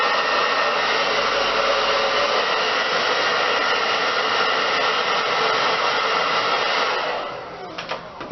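A hair dryer blows steadily and close on a curly hair weave, a constant loud whoosh that wavers near the end as the airflow shifts.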